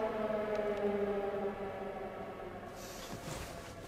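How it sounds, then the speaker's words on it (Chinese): An air raid all-clear siren in a wartime drama set during the war against Japan, holding a steady, sustained wailing drone that fades toward the end and gives way to quieter room sound. "警报解除"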